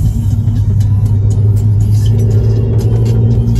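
A blue car drives along steadily, its engine producing a loud, continuous low rumble with a slight rise in revs, heard close up from inside or beside the vehicle with no talking.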